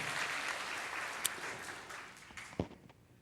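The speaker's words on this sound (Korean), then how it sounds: "다 같이 한번 박수하시겠습니다." A church congregation at an Easter Sunday service claps together in a dense, sustained round of applause that gradually thins out, with a few sharp louder claps and knocks near the end.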